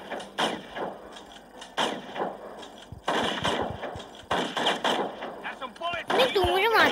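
Gunfire in the video game Six Guns, with several short bursts of shots spread across the clip over game effects, while someone talks throughout.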